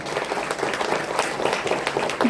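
An audience at a Tamil talk gives steady, loud applause, a dense wash of many hands clapping together that carries on evenly throughout.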